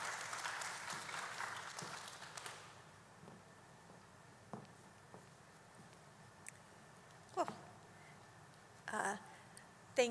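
Audience applause welcoming Dr. Kristin Schwain at a talk on the Missouri Heart of the Nation Art Collection, a broad wash of clapping over the first few seconds that thins into scattered, fainter claps and room noise.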